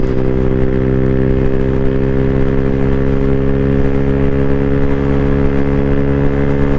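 A 2024 Freedom Fighter 200 EFI motorcycle pulling hard in sixth gear with a heavy rider into wind, its engine droning loud and steady with a strong, even hum and rising rush of wind throughout.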